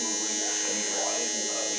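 Steady electric toothbrush buzz, a close, continuous high-pitched hum that stays constant and loud throughout with no pauses.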